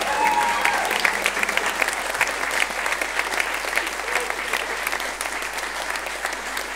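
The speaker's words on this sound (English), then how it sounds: "Another round of applause," A concert audience applauds a choir with loud, dense, sustained clapping that runs steadily throughout, close and full, without a break.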